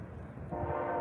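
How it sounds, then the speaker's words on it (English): A train passes on the eastern edge of the Twin Cities on a winter night, a steady low rumble that swells louder partway through with a sustained horn-like tone, heard from a backyard. "Can hear a train coming through."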